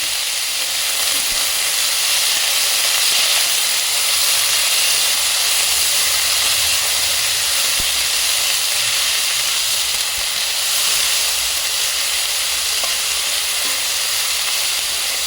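Sliced onions fry and brown in a pan with a steady, loud sizzle and hiss that runs unbroken and close throughout, with faint occasional stirring scrapes.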